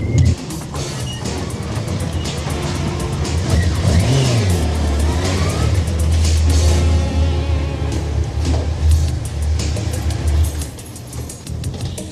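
A car engine starts and revs, then holds a steady drone as the vehicle reverses, close and loud throughout with no speech over it.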